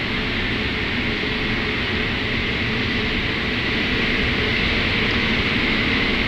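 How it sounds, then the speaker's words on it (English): Concorde jet engines one and four spooling up in a flight simulator, a loud, steady broadband roar with a constant hiss that holds evenly throughout, no talking. "Engines number 1 and number 4 are now spooling up."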